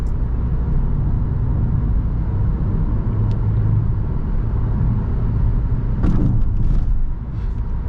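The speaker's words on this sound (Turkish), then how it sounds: "Ama mesela motor gürültülü motor." A 2022 Suzuki Vitara Hybrid with a 1.4 turbo engine produces a steady low drone and road rumble from inside the cabin while driving, with a brief rise in noise near the end.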